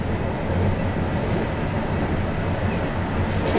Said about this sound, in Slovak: Ešte tu je taký nejaký nákladný vlak.